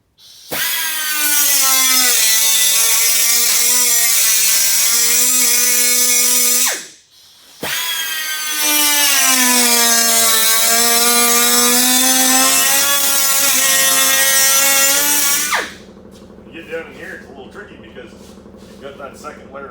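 A power tool cuts into a rusted steel car body panel with a loud, high-pitched whine in two long runs separated by a brief pause, then stops, leaving faint clanks and room noise.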